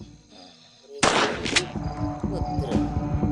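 A gun fires in the horror video game Granny: a sharp loud report bursts out after a quieter stretch, followed by a few more cracks and ringing game noise.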